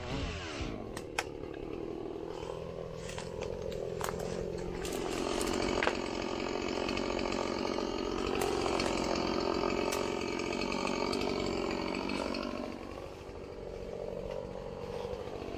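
A chainsaw cuts into a wind-damaged tree along a forest road, its engine roaring loudly and steadily up close, rising and falling slightly in pitch as it bites into the wood, with no talking over it.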